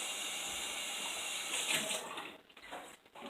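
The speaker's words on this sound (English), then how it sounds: "I'm gonna rinse out these bowls first." Bowls rinsed under a running kitchen tap produce a steady, close rush of water that briefly swells, then breaks into splashier, uneven pouring toward the end.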